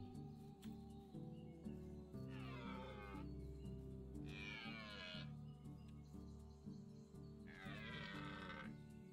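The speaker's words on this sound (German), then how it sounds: "Habe ich gerade einen Wolf gehört?" A wolf in the medieval survival game Medieval Dynasty gives three separate rising, wavering howls, each lasting about a second, over a steady droning background of game music and ambience.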